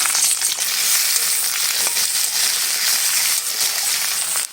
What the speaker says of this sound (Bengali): এই একই তেলে আমি জিরে, শুকনো লঙ্কা, তেজপাতা ফোড়ন দিয়ে আলুগুলো ছেড়ে দেব